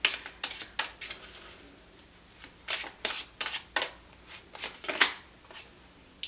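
Tarot cards are shuffled by hand in a series of crisp, close riffling bursts, some quick and clustered, separated by short pauses.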